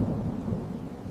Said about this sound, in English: It is a rainy evening.